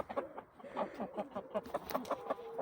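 Hens kept outdoors cluck in short, repeated bursts, several birds close by, fairly quiet against a calm background.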